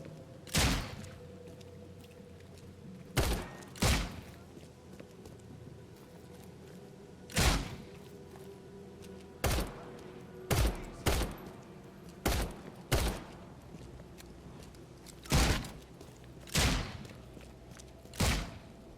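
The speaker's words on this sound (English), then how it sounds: "I don't know why I'm being shot at or from where or by who." Gunshots aimed at the player in The Sinking City, a dozen sharp isolated cracks at irregular intervals, some a second apart and others several seconds apart, each loud over a quiet low ambient hum, with no talk.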